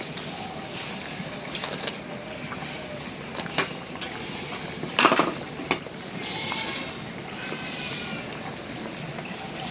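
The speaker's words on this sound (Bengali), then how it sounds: "এখন দিয়ে দিব পিঁয়াজ দিয়ে দিব কাঁচামরিচ" Onion and green chilli tipped into a cooking pot and stirred while making vegetable khichuri, giving scraping clinks of a utensil against the pot with a soft sizzle underneath, nearby and moderately loud, with a sharper clatter around the middle.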